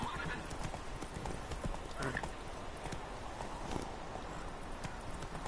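Horse hooves clip-clop at a steady walking rhythm in The Witcher 3: Wild Hunt, with a brief whinny and ambient game sound running continuously underneath.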